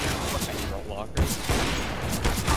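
Shotgun fire in a video game sounds as a few loud blasts amid dense gunfire, with excited players talking over the action.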